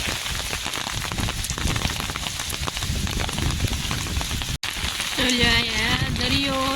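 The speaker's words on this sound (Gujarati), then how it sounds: "આટલો વરસાદ હશે ક્યાંય." Heavy rain pounds down with a dense, loud hiss onto flooding farm fields; after a short break, a voice is heard speaking over the continuing downpour.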